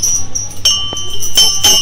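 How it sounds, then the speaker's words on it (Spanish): A metal bell at a temple in India struck a few times, each stroke a bright ringing clang with lingering high overtones, close and fairly loud with no talking. "vamos a tocar la campana"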